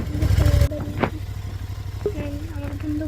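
A motorcycle engine runs with a loud rough burst at the start, then settles into a steady low idle.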